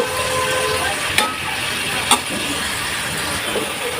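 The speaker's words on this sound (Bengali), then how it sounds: "এবার দিয়ে দিচ্ছি পেঁয়াজ বাটা একটু কষিয়ে নিব" Onion paste sautés in hot oil with a steady, moderate sizzle, broken by two short sharp hissing bursts, like stirring or scraping in the pan.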